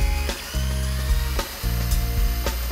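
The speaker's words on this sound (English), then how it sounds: "I drilled a 5/16 of an inch hole using the pilot hole as a guide" A power drill bores a 5/16 inch hole through a hand-held switch box enclosure, its steady whining motor cutting in and out in several short runs, close and loud with no voices.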